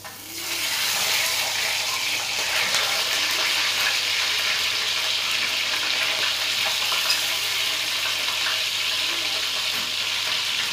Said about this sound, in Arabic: سامعين الطرطشه؟